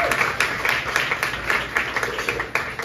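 An audience claps at a Dominican Chamber of Commerce USA event. The individual claps come through as a quick, fairly close patter that keeps going without a break.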